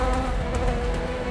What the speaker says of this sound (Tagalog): Bubuyog!